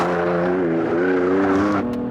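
A Toyota GR Yaris and a BMW M4 race hard through mountain pass corners, engine note droning loud and steady with shifting pitch, then a quick change near the end as the car backs off into the next bend.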